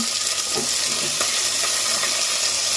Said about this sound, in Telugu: ఉల్లిపాయలు అయితే వేగిపోయిందండి ఇప్పుడు టమాటాలు మునక్కాయలు కూడా వేసేసుకుందాం